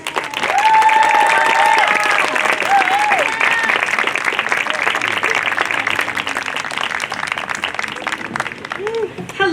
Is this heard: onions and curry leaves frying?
no